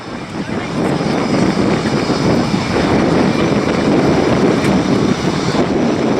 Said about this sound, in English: They've been slowing the aircraft again, down back to 145 knots with the gears down, it comes around again.